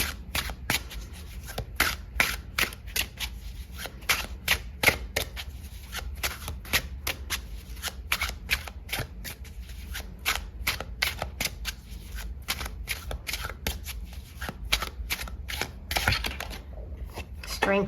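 Tarot cards are shuffled by hand in a steady run of crisp, close riffling bursts that keeps going throughout, with a person talking softly underneath.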